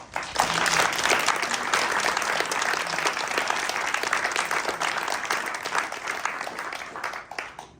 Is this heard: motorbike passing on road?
no